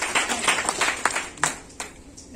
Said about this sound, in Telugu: yes very good super super big clap